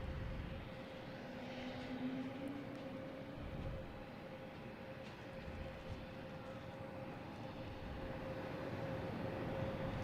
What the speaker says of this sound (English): Runway 9, clear for takeoff, all right?